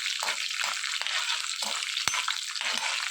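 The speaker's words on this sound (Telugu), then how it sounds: "బీరకాయ పచ్చడి కోసం మినప్పప్పు, పచ్చెనపప్పు, పచ్చిమిరకాయలు, ఎండుమిరపకాయలు వేసుకొని వీటిని దోరగా వేయించుకోవాలి" Urad dal, chana dal, green chillies and dried red chillies frying in a pan for a ridge gourd chutney, a steady soft sizzle with occasional stirring clicks and scrapes.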